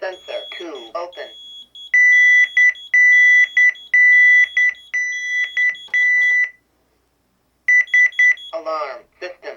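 CareTaker Plus home automation alarm panel from 1992 force-arming with a zone bypassed, giving a series of sharp electronic beeps in bursts, interleaved with a synthesized voice speaking before and after.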